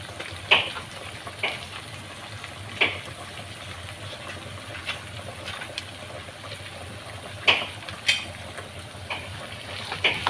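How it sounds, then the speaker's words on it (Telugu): Coriander, mint, ginger, green chilli, garlic and fresh coconut frying in a pan for a radish-leaf chutney, a steady low sizzle with occasional stirring scrapes and clicks at close range, no talking. "అయితే బాగా ఎర్రగా మగ్గనియాలి కొత్తిమీర పుదీనా కానీ ఎర్రగా మగ్గాలన్నమాట"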